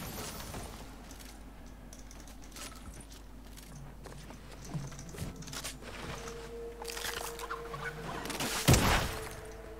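Chicken clucking in the Fortnite video game comes through faint and scattered among quiet game sounds, with a few short louder bursts near the end.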